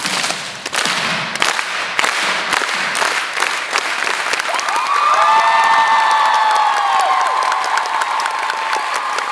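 A community group claps in rapid, scattered bursts that build into steady applause with shouts and whistling cheers layered over it.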